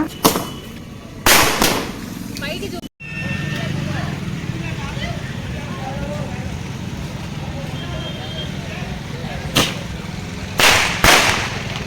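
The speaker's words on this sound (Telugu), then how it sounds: "బాంబులు కలుద్దామని చెప్పేసి ఒక షాట్ పెట్టాడు ఇక్కడ" Diwali-eve firecrackers burst in a series of sharp, loud bangs, one early and several clustered near the end, with people talking and background street noise between the blasts.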